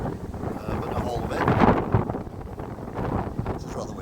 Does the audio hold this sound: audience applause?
no